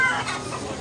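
Chickens at a market cluck in a dense, busy chorus with overlapping calls, moderately loud.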